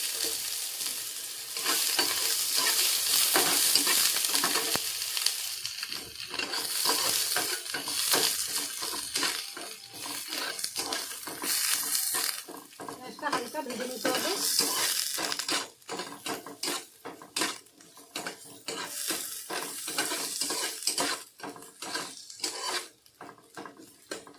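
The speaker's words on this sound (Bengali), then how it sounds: "পেঁয়াজটা হালকা ভাজা হয়ে গেছে" Chopped onion frying in a little white oil in a frying pan, a close sizzle broken by repeated scraping and clinking of a spatula stirring against the pan, no voices.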